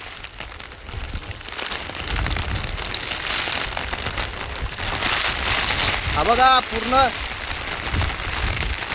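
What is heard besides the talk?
heavy rain storm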